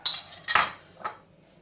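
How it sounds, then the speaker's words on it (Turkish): Roasted eggplant flesh tipped from a container into a bowl for baba ghanoush, giving three short clattering knocks of a utensil and dish, close and fairly soft, with quiet pauses between. "Patlıcanlarımı kasenin içine boşaltıyorum."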